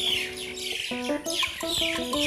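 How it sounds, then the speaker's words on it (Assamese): Several birds chirp and call together in the afternoon, overlapping sharp tweets and clucking notes repeating in a busy chorus. "তাতে আবেলিৰ সেই চৰাই মাত"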